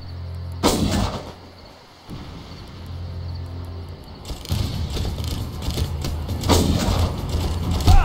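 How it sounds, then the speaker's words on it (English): Mortar fire in the video game Far Cry: two sharp, loud blasts with mechanical clanking and rattling between them, followed by continued rumbling and debris-like noise. "Well, what do you know? Mortar, huh?"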